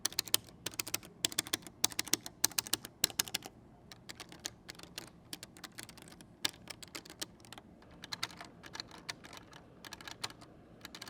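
Buttons on a Victrix Pro FS arcade fight stick are pressed in quick, irregular bursts of sharp clicks. The clicks are dense at first and then thin into scattered taps, heard close up with no talk.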